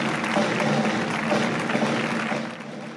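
Sustained applause from the public at a Día del Pilar Guardia Civil ceremony in Guadalajara as the honour company withdraws, a dense wash of clapping that stays steady before easing slightly at the end.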